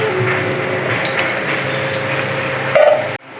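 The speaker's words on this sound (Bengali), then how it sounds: "আলুগুলো ভাজা হয়ে গেছে, এখন আমি তুলে নিচ্ছি।" Potatoes frying in oil in a wok give a steady, close sizzling hiss, with brief scraping as they are lifted out, ending in a sudden cut.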